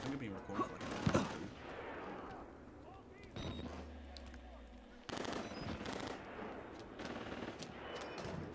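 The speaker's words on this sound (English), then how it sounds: "So there's guys with guns everywhere now." Gunfire in the horror video game Outlast Whistleblower arrives in scattered bursts at moderate distance, with a sharp cluster early on. A person talks over it at times.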